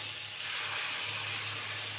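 Blended spice paste hits hot oil with frying cauliflower and potatoes, a sudden soft sizzle swelling into a steady, faint hiss that carries on close by without talk.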